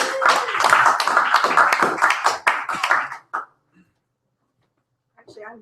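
A poetry night audience bursts into a short, loud round of applause and cheering that fades out after about three seconds, followed by near silence and a faint voice.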